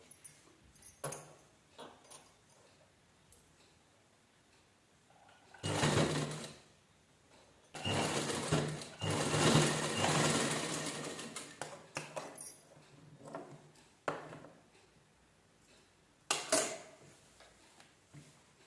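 Sewing machine stitching a blouse sleeve runs in several bursts, two long runs and a few short ones, close and fairly loud, with quiet pauses and handling clatter between them.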